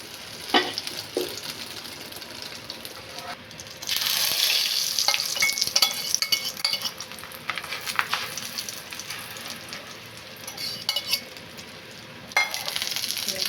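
Chilies, onions and other ingredients fry in oil in a pan, giving a steady close sizzle with crackling bursts and occasional stirring scrapes and clinks throughout, louder in the middle stretch and near the end.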